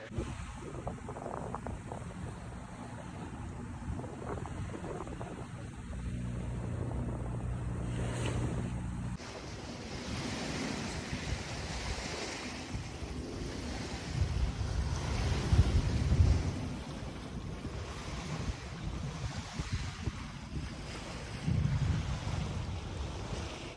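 A boat cruises over open ocean on the trip from Newport Beach to Marina del Rey, a continuous rush of waves and hull splash mixed with strong wind buffeting the microphone, swelling louder midway.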